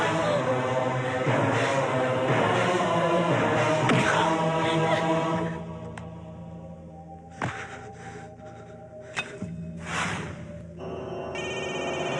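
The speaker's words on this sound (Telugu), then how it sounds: "ఓకేనవా, ఫోన్ ఎత్తడేట్రా." A telephone rings loudly and continuously in a Telugu film scene, then keeps ringing in shorter bursts with gaps between them.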